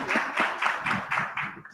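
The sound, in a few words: audience applause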